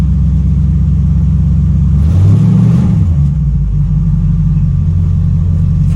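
An old kustom car engine rumbles loudly at idle, then blips through a quick rev that rises and falls before settling back into a deep, steady idle.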